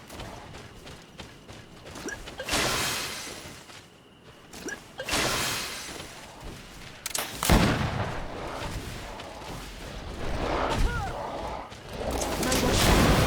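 A gunfire volley in GreedFall erupts in several loud bursts of shots and cracking blasts, separated by quieter gaps, with voices speaking between the firing.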